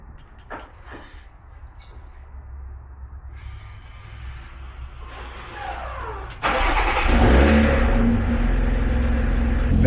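BMW M340i with an MHD Stage 2 tune cold-starting: quiet clicks and rising hum, then the engine fires with a sudden loud roar and holds a heavy, high idle close by.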